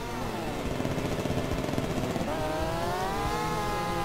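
A kart engine drones in Mario Kart 64 on the Wii U Virtual Console, a continuous buzzy motor tone that rises and falls in pitch, loud and steady throughout with no talking.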